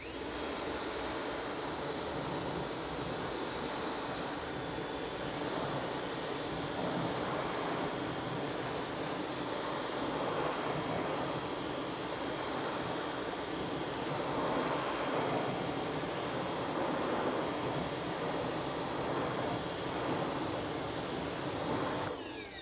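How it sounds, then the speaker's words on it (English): Water from a Pro Flow sprayer rinses a car wheel, a constant loud hissing spray with gentle surges, close and uninterrupted, no voices. "I'll get my Pro Flow, and then I'll just rinse it off"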